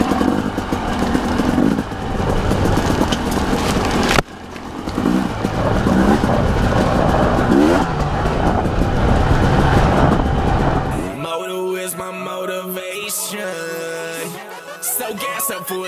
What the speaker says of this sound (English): we'll go ahead and enjoy some trail riding on the TE.